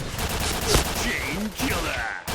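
An SS3 assault rifle fires in the online shooter Point Blank, a dense, continuous rattle of automatic shots with a voice talking over it.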